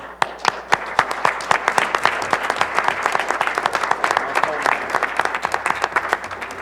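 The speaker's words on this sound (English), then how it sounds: "will we please honor and applaud for our new consul" Audience applause honoring a newly installed consul at a ceremony, a dense burst of many clapping hands with sharp individual claps standing out, steady and moderately loud throughout, alone without talk.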